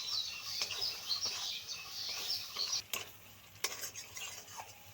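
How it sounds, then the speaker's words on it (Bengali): Chopped tomato and green chili being stirred into frying masala in a pan, a soft steady sizzle with scraping spoon strokes and a few sharp metallic clinks, fairly quiet and close. "মশলার সঙ্গে খুব ভালো করে মিশিয়ে নেব টমেটো আর কাঁচা লঙ্কা।"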